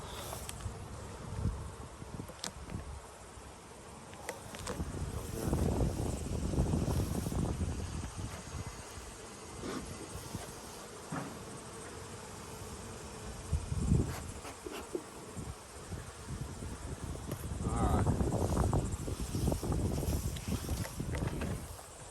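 Honey bees buzz steadily and close at a hive, a dense droning hum with swells in loudness, plus some wind rumble against the microphone.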